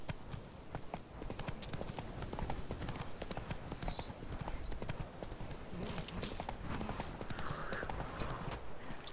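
Rapid, rhythmic hoofbeats of the horse Roach galloping in The Witcher 3, a steady clip-clop cadence over quiet game ambience, with a voice speaking faintly.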